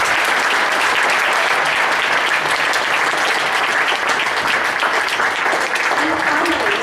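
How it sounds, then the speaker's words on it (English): Loud, dense audience applause after a school music concert, sustained and even from start to finish, with a crowd murmur mixed in. "So a big round of applause for them."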